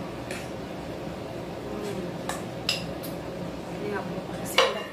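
Utensils scrape and clink softly against a bowl of soto-style noodle soup in a stirring motion, a few brighter taps standing out over a low background.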